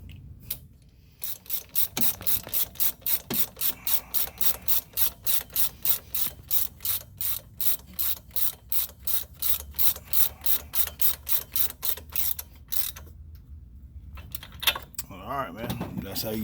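A hand ratchet cranks steadily on the spark plug of an EZGO gas golf cart, about thirty rapid, evenly spaced clicking strokes up close and fairly quiet, with brief pauses and a bit of handling noise at the end.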